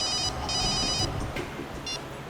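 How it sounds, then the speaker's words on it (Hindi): A telephone rings in short electronic trilling bursts, two clear rings then a brief third, moderately loud against a quiet indoor background with no speech. "सर, अभिजीत सर का फोन था।"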